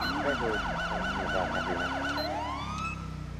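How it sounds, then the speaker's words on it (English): In GTA 5, a police car's Omega 90 Unitrol siren yelps rapidly and loudly up close, then winds down into a slower falling wail over engine rumble. "Hey, we're using an Omega 90 Unitrol siren."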